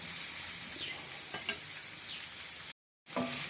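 Ragi upma ingredients fry in a pan as they are stirred, a soft steady sizzle with faint scraping strokes, close and fairly quiet, with a brief cut to silence near the end and no talking.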